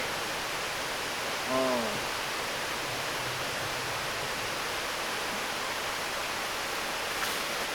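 A mountain river flows with a steady, unbroken rush of water filling the whole scene, with a short voiced exclamation heard once over it.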